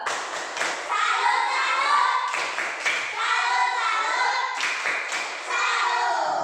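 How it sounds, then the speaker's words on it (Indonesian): A classroom of children gives a rhythmic 'tepuk salut' clapping salute, with patterned bursts of claps and thumps repeating in phrases while young voices chant along close by. "Rewardnya kita kasih tepuk salut untuk semuanya."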